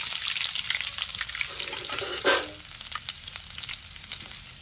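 Native curry leaves and chopped small shallots frying in oil with mustard seeds, a continuous close sizzle with one brief louder burst midway.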